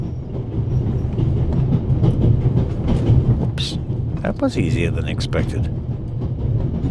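Continuous rattle and rumble of a moving train carriage in the video game The Raven Remastered, steady throughout, with someone speaking briefly over it and a few small clicks and rustles.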